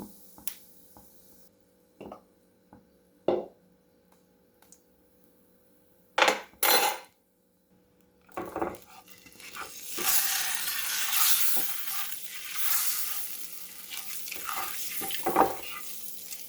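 Turmeric powder hits hot oil for an egg curry. A few sharp taps and clinks come first, then a loud, sustained sizzle rises and hisses steadily for several seconds.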